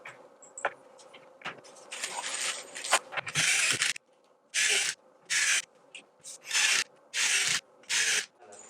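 A long hex-head wood screw is driven into the panel of an IKEA Alex drawer unit, heard as a run of rubbing, ratcheting turns followed by five even bursts of grinding, close and loud with no talk.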